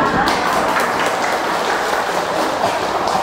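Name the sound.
audience applause after a song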